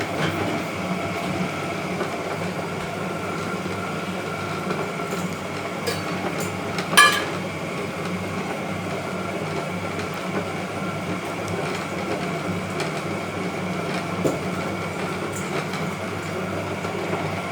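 A wet grinder grinds idli and dosa batter, its stone rolling with a steady, continuous hum and churning rumble at moderate level, broken by one sharp clink partway through.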